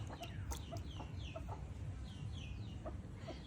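Chickens cluck in a rural yard while fish scraps are tossed to them and to ducks, with soft overlapping clucks and chirps over steady low background noise throughout.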